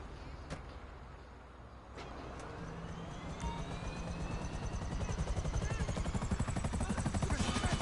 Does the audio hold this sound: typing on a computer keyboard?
no